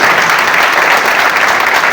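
Loud, steady applause from an audience at a seminar gathering, packed clapping sustained throughout.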